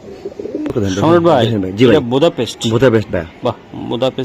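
Racing and giribaz pigeons for sale coo softly in the background, largely masked by someone speaking close to the microphone.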